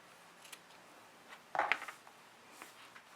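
Scissors cut fusible interfacing to size for a clutch bag, giving a few quiet snips and one sharper, louder cut in the middle, heard alone and close.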